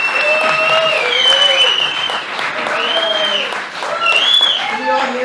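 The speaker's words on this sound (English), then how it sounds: "big hand of applause for Marcy" A crowd at an HP press event at SIGGRAPH 2017 in the Technicolor Experience Center gives a round of applause, steady clapping heard under prominent tonal music or voices that rise and fall over it.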